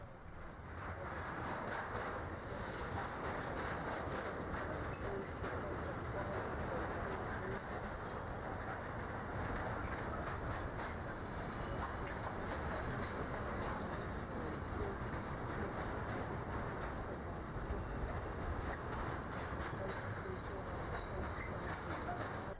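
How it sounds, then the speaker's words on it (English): Two RTC Siemens locomotives haul an intermodal train on the Brenner Railway in winter. A continuous, steady rumble of rolling wheels and engines runs throughout at a moderate distance, with faint squeals overhead. "the two RTC Siemens locomotives head back into Italy with an intermodal for Verona"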